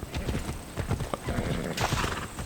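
In the Assassin's Creed Odyssey video game, a horse's hooves clip-clop in a quick rhythm, close and fairly loud, followed by a neigh near the end, with a little faint voice underneath.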